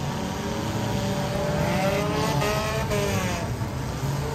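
Dirt track race cars roaring past in a championship night B main, a dense continuous engine drone with rising and falling pitches as cars weave through traffic, loud and steady.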